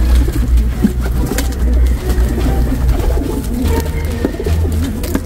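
A black tiger racing pigeon coos in repeated low, throaty bursts close by, with other bird sounds and background noise mixed in, without any clear talking.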